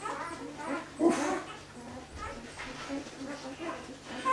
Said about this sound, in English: They're nice, fit and healthy puppies.